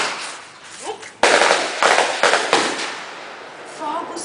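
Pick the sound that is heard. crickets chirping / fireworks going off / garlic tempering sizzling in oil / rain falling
fireworks going off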